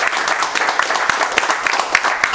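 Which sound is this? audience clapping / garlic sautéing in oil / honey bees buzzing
audience clapping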